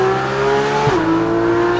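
A Porsche 991.1 GT3 RS with a full titanium IPE exhaust, one loud sustained engine note heard from close by that drops in pitch as it downshifts.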